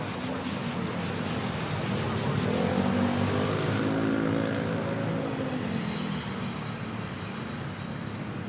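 A jet airliner takes off at Manila airport, its broad roaring engine noise swelling steadily from a distance and holding loud and continuous for several seconds.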